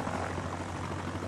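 A helicopter's steady droning rotor and engine roar at a busy airport in Farming Simulator 17, a continuous loud whirring hum with no voices.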